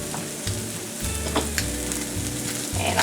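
Butter and vegetables sizzle steadily in a frying pan for an omelet, a constant close crackle with a few soft stirring scrapes and brief clinks, no talk.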